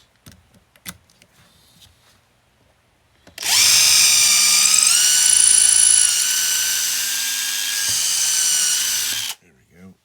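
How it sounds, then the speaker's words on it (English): A power drill bores a pilot hole while a snow pusher for clearing a roof is being built: a steady, loud high-pitched motor whine runs for about six seconds after a few quiet clicks and handling sounds. "I think I'm gonna need a bigger pilot hole. A slightly bigger pilot hole."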